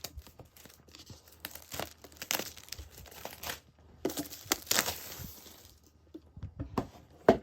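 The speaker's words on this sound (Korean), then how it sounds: "자 그럼 비닐을 뜯어보도록 할게요." Plastic shrink wrap being torn off a MacBook Air 13-inch M1 box in space gray, a run of crinkling rips and crackles spread across several seconds, close up, with no talking.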